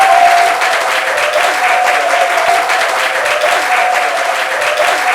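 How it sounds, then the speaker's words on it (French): Steady, dense applause from a studio audience greeting a talk show guest, loud and sustained throughout without a break. "Applaudissements pour lui, s'il vous plaît."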